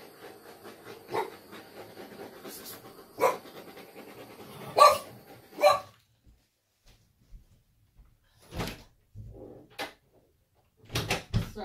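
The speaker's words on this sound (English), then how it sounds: "sorry about the dog again" A dog barks indoors at home during an acrylic fluid art pouring session: several sharp, loud barks come in irregular bursts with quiet gaps between them, and nobody talks.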